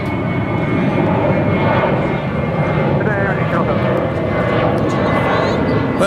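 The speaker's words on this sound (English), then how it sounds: "it looks like that Minneapolis flight is making the turn over there on the east side" An airliner turning over the east side of Dallas-Fort Worth International Airport, a steady loud engine roar filling the whole stretch with people talking underneath.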